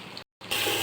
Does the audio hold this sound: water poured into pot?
yes